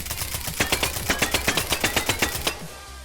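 A PDW fires a rapid burst of about fifteen evenly spaced shots in H3VR, crisp and close, stopping abruptly with a brief tail of quiet room tone.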